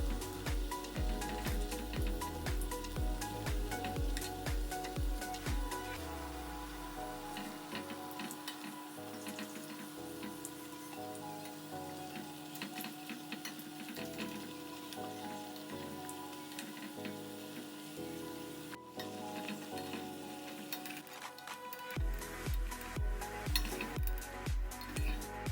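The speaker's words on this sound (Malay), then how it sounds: "And then kita terus goreng lah kita punya tepung ini." Flour batter frying in a pan with chicken stock and salt, a continuous crackling sizzle with dense popping, close and steady throughout.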